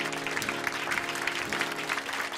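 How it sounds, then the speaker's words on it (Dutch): Audience applause at a small live music event, steady close clapping throughout with no talk over it. "Applaus."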